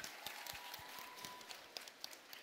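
An audience at a Paris beauty event gives a round of applause, a fairly quiet, moderate clapping with a few sharper individual claps standing out, continuous over a couple of seconds.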